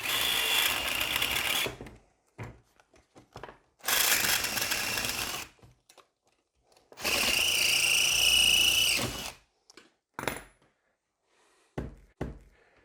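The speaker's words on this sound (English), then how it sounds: "When you're drilling the rivet down the bottom here" A power drill drills out a rivet in three bursts of a couple of seconds each, close and loud, separated by quiet pauses with small clicks and knocks.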